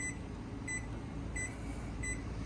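A microwave oven in a travel trailer gives short beeps while its clock is being set, four evenly spaced chirps over a steady low hum, with no talking.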